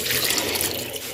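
Water poured into a pressure cooker over chicken and dal, a steady splashing, rushing pour heard close and alone for a brief moment.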